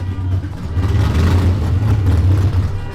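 Cars with loud exhausts in an exhaust battle, a deep, heavy engine rumble and revving, loud and close, with no talk.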